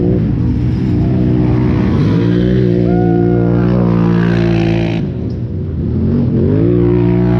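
A GNCC off-road dirt bike ridden by Brandon Frazier, #784, roars past close by at full throttle, its engine pitch rising and falling as it shifts, loud and dominant with no voices.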